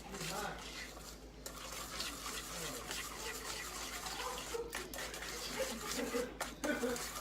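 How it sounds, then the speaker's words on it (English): A whisk beats a mixture in a bowl steadily for several seconds, a continuous scraping, stirring swish close up with no talk over it, while cooking a Thai-style meal. "I'm going to take the whisk and I'm going to whisk it"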